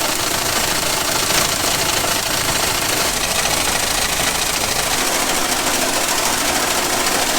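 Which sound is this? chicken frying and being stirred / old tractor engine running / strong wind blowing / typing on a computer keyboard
old tractor engine running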